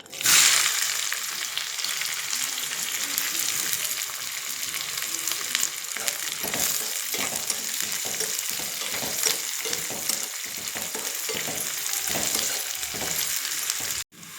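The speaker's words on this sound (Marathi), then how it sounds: "इथे कांदा छान असा भाजला" Steady, continuous sizzling of onions frying in hot oil with cumin in a pressure cooker, with occasional stirring scrapes, close and fairly loud throughout, no voices.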